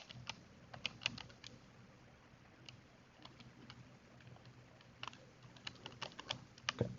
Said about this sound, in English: Okay, that's a lot to type in.